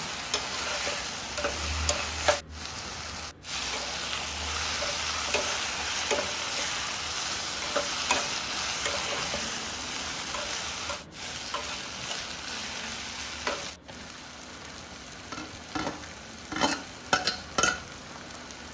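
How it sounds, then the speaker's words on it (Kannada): Bitter gourd frying in a pan with tomato, a low steady sizzle with scraping stirring strokes and a few sharp clicks of the spatula, fairly close and without voices. "ಚೆನ್ನಾಗಿ ಫ್ರೈ ಮಾಡಿಕೊಂಡು ಕರೆದಿಟ್ಕೊಂಡಿರುವಂಥ ಹಾಗಲಕಾಯಿನ ಇದಕ್ಕೆ ಹಾಕ್ಕೊಳ್ತಾ ಇದ್ದೀನಿ."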